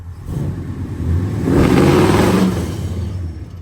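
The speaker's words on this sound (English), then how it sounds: "You may have heard it kind of coughing out the intake there." An old car with a slant engine and a carburetor runs close by, its engine rumbling and swelling in a brief surge before settling back.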